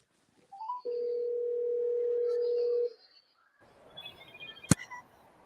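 A telephone dial tone hums steadily for about two seconds, clear and fairly loud, then stops and gives way to a brief burst of dialing beeps and a sharp click amid faint background noise.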